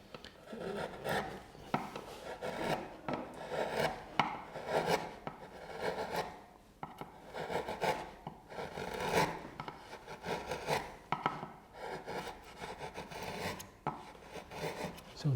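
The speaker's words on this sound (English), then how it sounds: "And now with the smallest chisel, I start only from the inside." A small chisel carves wood, cutting the fluting of a stringed instrument from the purfling in toward the arching, giving a steady close rasping scrape of repeated short strokes with no talk.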